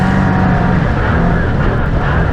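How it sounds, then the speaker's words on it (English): Loud, steady engine roar from oval-track race cars at full throttle, a dense continuous drone with no breaks. "Hobson, he's going to stand the car and get tight for a moment"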